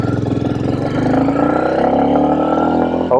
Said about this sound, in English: pretty good sound for stock motorcycle.